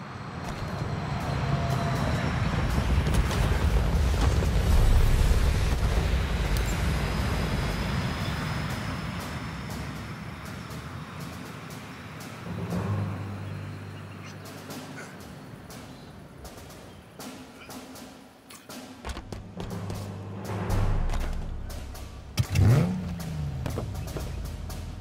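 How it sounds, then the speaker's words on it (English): Vehicle drop in the Halo Infinite video game on Xbox Series X, a loud sustained engine rumble and whoosh that swells early then eases off, followed by intermittent mechanical thumps, clanks and a final revving roar. "Confirmed. Stand by for vehicle drop."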